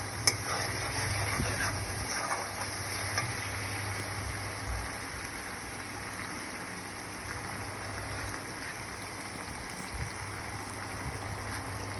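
Spices being fried and stirred in a pan for a dried fish curry, a soft, steady sizzle with faint scraping of a utensil, fairly quiet and continuous.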